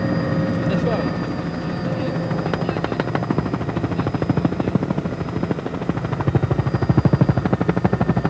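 Helicopter flying over forest rally stages at the 1988 NZFP Forests Rally in Tokoroa, New Zealand, its rotor thudding in a steady, loud rhythmic chop with turbine whine, while someone talks over it.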